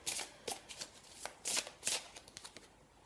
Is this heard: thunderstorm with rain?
no